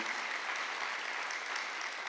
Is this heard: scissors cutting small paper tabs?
no